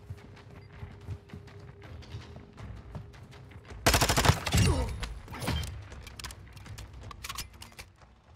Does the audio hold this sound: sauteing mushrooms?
no